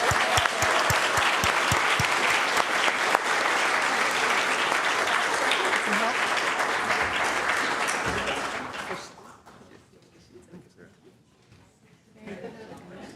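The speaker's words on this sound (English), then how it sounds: "Let us give a round of applause and welcome to our new members" A congregation at a Sunday church service claps to welcome new members, a dense, steady round of applause with some sharp individual claps early on, tapering off after about nine seconds into quieter room sound and murmuring.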